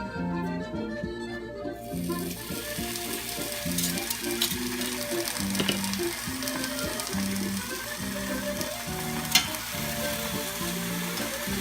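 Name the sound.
bacon frying on medium to high heat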